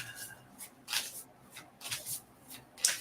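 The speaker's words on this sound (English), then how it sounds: "Let me actually shuffle." Tarot cards being shuffled by hand: a series of crisp, papery riffles and slides in uneven bursts, close and fairly quiet, with no talking.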